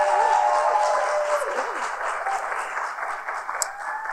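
Audience applause at a Juneteenth 160th anniversary event in St. Louis, sustained clapping from a crowd with faint voices mixed in, strongest at the start and easing slightly toward the end.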